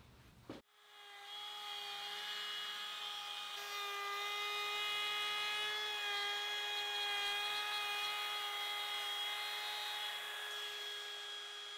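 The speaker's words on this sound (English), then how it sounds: "Next, I'll put a small chamfer at the top and the bottom." A steady, high-pitched tonal whine of a power tool cutting a small chamfer along the edges of a wooden cutting board, starting after a brief knock and holding constant and close for about eleven seconds, no talking.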